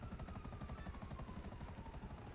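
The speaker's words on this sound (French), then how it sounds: "J'ai trouvé un gars dans un hélico." A helicopter in a hide-and-seek video game flies with a steady, fast rotor chop that pulses evenly throughout, fairly quiet and continuous, with no talking over it.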